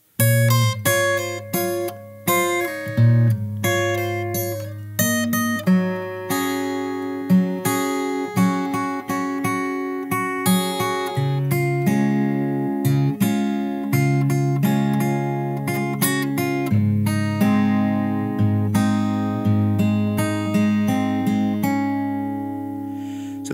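Fingerstyle acoustic guitar plays a song's post chorus, a steady stream of plucked melody notes over a bass line, close and full for over twenty seconds with no talk.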